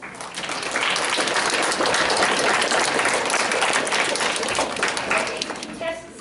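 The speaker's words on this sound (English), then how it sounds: "So give yourselves a big round of applause." An audience at an oratorical contest breaks into sustained applause, a dense wash of clapping that swells and holds for several seconds before tapering off.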